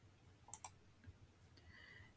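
A computer mouse clicks twice in quick succession, sharp and close, while an option is selected in the Grammarly web editor; a faint tonal beep follows in an otherwise quiet room.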